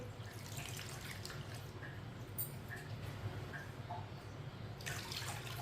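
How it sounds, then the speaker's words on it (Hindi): Two cups of water poured into a pot of washed masoor dal lentils in a home kitchen, a soft steady trickle and splash running close by with faint drips and clinks, no talking. "दो प्याली पानी डाल लेंगे।"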